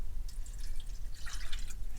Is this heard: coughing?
no